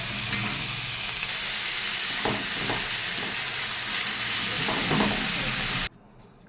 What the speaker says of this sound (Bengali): চিংড়ি মাছটা হালকা করে ভেজে নিচ্ছি